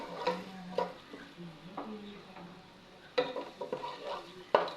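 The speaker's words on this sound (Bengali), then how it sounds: "পেঁয়াজটা ভালো করে ভেজে নেই।" Onions are frying in a pan for a soft vegetable khichuri. A faint, low sizzle runs under scattered scraping and clinking from stirring, with a few louder knocks near the end.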